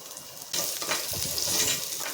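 Garlic, chopped green chillies, curry leaves, dried red chillies and asafoetida hit hot oil for a dahi tadka, a sudden loud crackling sizzle after a quiet start that keeps spitting and hissing close up.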